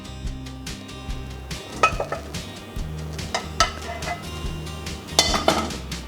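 Pan and plate clink and clatter as a chicken omurice is flipped from the pan onto a plate, a few sharp metallic knocks and scrapes rising over steady kitchen background music.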